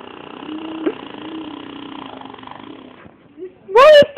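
A person imitates a motorcycle engine with a steady, rough, rumbling voiced drone that carries for a few seconds, then stops, followed by a brief, loud, rising vocal burst.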